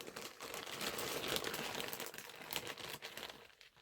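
Plastic baggies crinkle and rustle as they are handled for packing, a faint, continuous close crackling with no one speaking.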